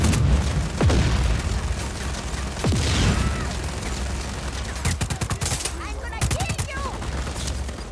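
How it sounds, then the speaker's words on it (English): Grenade blast amid gunfire in the video game Just Cause 4, with booming explosions and rapid bursts of shots, several sharp cracks later on, dense and loud throughout. "Someone just threw a grenade at me."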